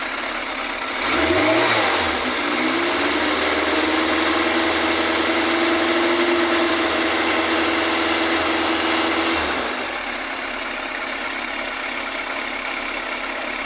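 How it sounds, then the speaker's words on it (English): A Yamaha FZR1000 EXUP motorcycle engine, mid carb balancing, revs up from idle, holds a steady raised rev for several seconds, then drops back to idle; close and loud with no talking. "let me just rev the bike a bit."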